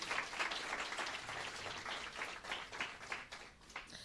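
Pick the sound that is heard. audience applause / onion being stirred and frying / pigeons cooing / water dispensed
audience applause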